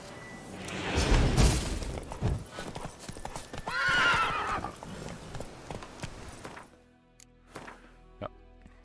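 Hooves clatter and a horse gives a loud, shrill whinny in The Witcher 3 video game, followed by a few scattered knocks and clicks before things quiet down.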